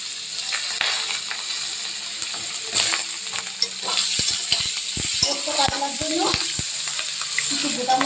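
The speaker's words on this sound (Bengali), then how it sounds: "মশলা ফোড়ন দিয়ে নিয়েছি শুকনো পেঁয়াজ দিয়েছি" Whole spices, dried chilli, bay leaves and chopped onion sizzling in hot oil in a pan, a steady close frying hiss with intermittent stirring scrapes and clicks throughout.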